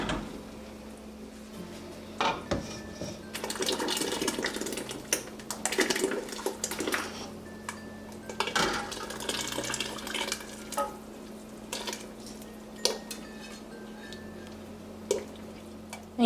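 Green pozole sauce poured into a pot in a kitchen, giving soft liquid splashing and pouring with scattered clinks of utensils against cookware, moderately close and without talk.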